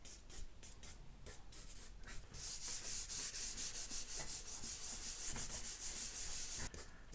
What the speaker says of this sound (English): And I'm using a Tombow Mono Zero eraser for this.